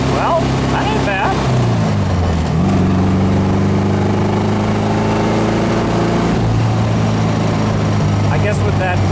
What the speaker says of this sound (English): single carburetor, it doesn't make as much noise as dual carburetors.